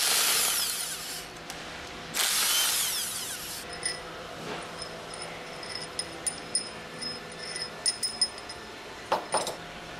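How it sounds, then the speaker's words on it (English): An impact wrench with a 10 mm hex drive removing retaining bolts while servicing a KF packing stack, two short loud whirring bursts near the start, then quieter clinks and small metallic taps, no talk. "Use the impact wrench with a 10 millimeter hex drive attached to remove the remaining six"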